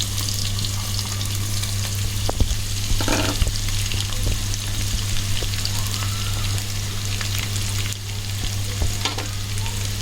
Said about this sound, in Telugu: ఆయిల్ హీట్ ఎక్కాక ఆనియన్స్, మనం తీసుకున్న జీడిపప్పు అన్నీ ఇందులో వేసి ఫ్రై చేసుకోవాలి.